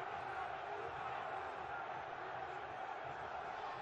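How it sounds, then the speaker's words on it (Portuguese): A Palmeiras football crowd roars in celebration of a goal in the 2012 Copa do Brasil final against Coritiba, a steady, dense wall of cheering that carries at full strength from start to finish. "A torcida do Palmeiras comemora o desvio."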